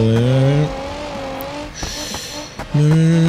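A car engine in BeamNG.drive, during a high-speed driving run, revs and climbs in pitch, drops back, then surges hard again, loud and close, with a faint squeal over it.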